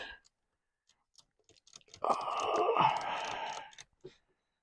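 Plastic keyboard of a vintage Commodore 64 being prised off its case: scattered small clicks, then a sustained scraping, creaking strain for about two seconds, ending in a few final clicks.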